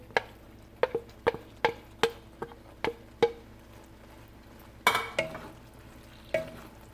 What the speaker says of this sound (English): And just stir it well.